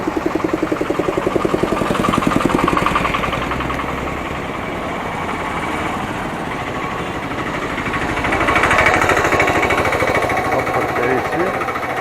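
Heavy road tarring machinery rumbles steadily nearby with a rapid knocking vibration, its loudness swelling twice, while a person talks over it.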